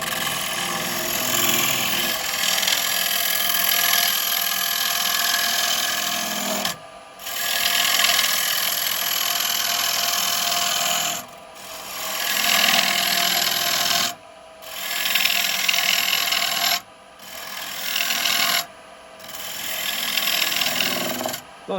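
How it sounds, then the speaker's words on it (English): Rough, steady rasping as an AU carbide cutter on a 12mm bar cuts a wooden bowl on a lathe, loud and close, running in long passes broken by several short pauses. "I'm gonna go to an AU cutter on a 12mm bar."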